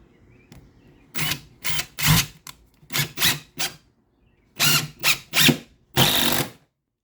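A repaired DeWalt impact driver on high torque fires in a series of short, loud rattling bursts, roughly nine pulses in uneven groups separated by brief silences, close up with no talking.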